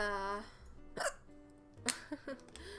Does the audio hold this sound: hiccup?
yes